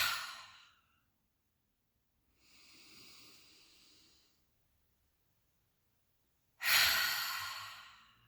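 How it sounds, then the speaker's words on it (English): Three long, soft exhalations through the mouth during a restorative pranayama breathing practice, each a breathy whoosh lasting about a second, with the last one louder and closer, separated by silence. "holding the breath, and then releasing through the mouth on your exhale"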